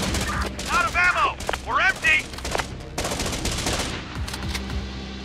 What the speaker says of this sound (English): Wait, they can still fire at them, it seems.